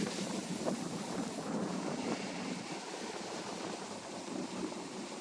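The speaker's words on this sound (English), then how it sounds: "it is really windy out here" Heavy wind buffets the microphone outdoors at Calvary Cemetery in Nashville, Tennessee, in a constant rumbling roar for several seconds, with no voices heard.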